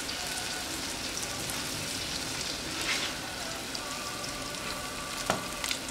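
Broccoli sizzles and crackles steadily in hot oil, a dense, close frying hiss with occasional sharper pops.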